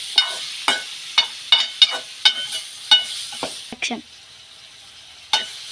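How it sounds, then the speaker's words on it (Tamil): Stirring salted fry-up (uppu varuval) in a pan: a run of sharp scraping strokes about every half second, several in quick succession, then a pause and one more stroke, over a faint sizzle, close by. "நல்லா கிண்டி கிண்டி கிண்டி கிண்டி விட்டுருவோம்"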